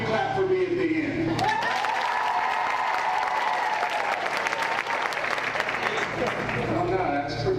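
A live audience claps in a rehearsal round of applause at a community gathering, dense steady clapping filling several seconds at close range with a few voices mixed in.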